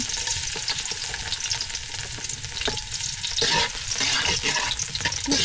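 Garlic sizzles and crackles in a hot pan as it is stirred, a steady close frying hiss with scraping strokes throughout.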